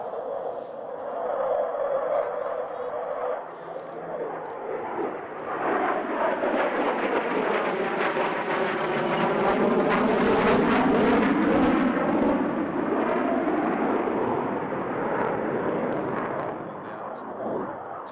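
Military jet with afterburner at the RAAF Base Wagga open day: a distant roar that swells into a loud, rushing pass and slowly fades, with crowd or announcer voices underneath.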